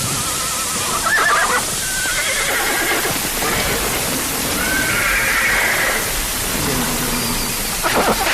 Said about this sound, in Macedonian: То се новите коњи на база. Не се свикнати да стојат надвор кога грне.